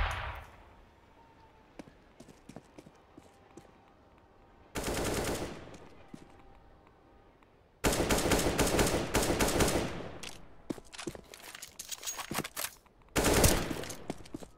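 Pistol and AK-47 gunfire in Counter-Strike on the map Train, scattered single shots early, then dense bursts of rapid automatic fire in loud, clustered volleys separated by short gaps.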